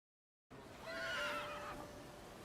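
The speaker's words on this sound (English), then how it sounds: "Oh no, there's a horse." A horse whinnies once in a video game, a clear rising and falling neigh over a steady background hum, after a moment of silence.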